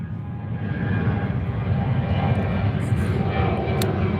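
An airplane passes overhead outdoors, a loud, steady broadband roar of engine noise that fills the whole stretch without fading, with faint talk blended in underneath.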